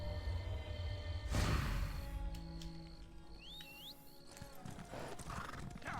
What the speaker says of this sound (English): my horse is extremely slow